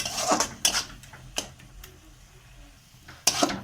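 Melting sugar syrup stirred in a pan, heard as a few sharp scrapes and clinks of a utensil against metal, separated by quieter gaps, close and fairly soft.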